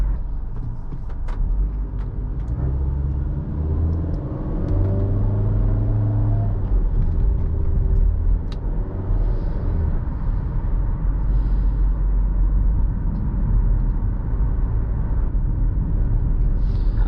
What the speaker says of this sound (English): The engine does kind of rev a lot